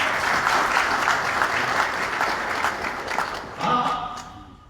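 An audience at a spiritual gathering applauds in a loud, sustained wash of clapping that fades out near the end as a voice begins to speak.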